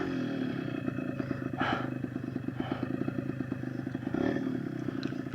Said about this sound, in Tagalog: May mga motor dyan, umiyong nga yan oh. Lakas naman ng umiyong to.